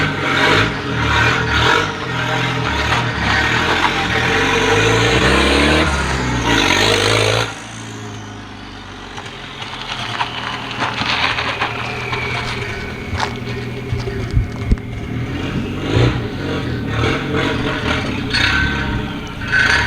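Volvo 940 car on the move, engine droning loudly for the first seven seconds, then a quieter rolling hum with scattered knocks, scrapes and clicks; no talking.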